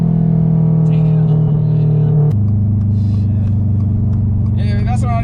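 A straight-piped Toyota GR86 drones loudly from close up, then drops abruptly into a lower gear on a downshift and keeps pulling hard with a harsh, raspy exhaust note as it accelerates.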